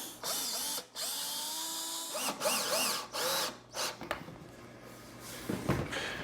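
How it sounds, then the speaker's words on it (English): Power drill driving long screws through 3/4 inch walnut shelf wood and 1/2 inch drywall into a wall stud in a kitchen; several close, loud whirring bursts of drilling with brief pauses and clunks between them. "I'm using fairly long screws because I need to get through 3/4 of an inch of wood and 1/2 inch of drywall and then into the stud"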